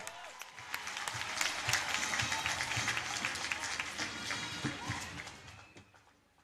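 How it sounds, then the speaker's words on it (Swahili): A large graduation audience at Kenyatta University's 56th ceremony breaks into sustained applause with cheering mixed in, a rolling crowd sound that swells and then fades out toward the end. "shangwe na vigelegele"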